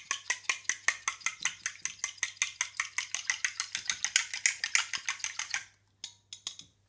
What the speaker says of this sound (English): then you whisk it